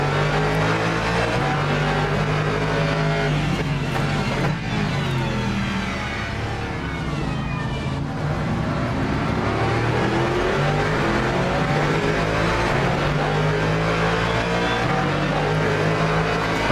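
At the rolling start of a Le Mans Ultimate race, a pack of race car engines roar loudly and continuously, rising and falling in pitch as the cars accelerate, shift gears and pass close by.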